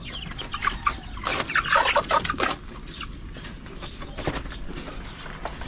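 Several native Kalaypi breeder chickens cluck and murmur close by, busy overlapping calls in a bustling coop with no talking.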